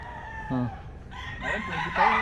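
A rooster crowing among chickens on a large poultry farm, with a few clucks and crowing calls, moderately near, over a soft background with faint voices.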